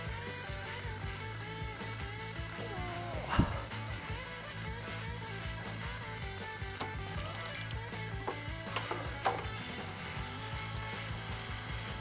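Repeated ratcheting clicks of a larger-drive ratchet wrench working on an engine bolt of a 1972 MGB, close up in a garage, with occasional knocks.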